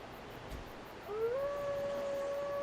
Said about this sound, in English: That's a big dog.